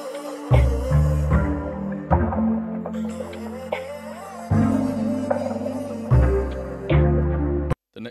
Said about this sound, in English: I just added this PERC loop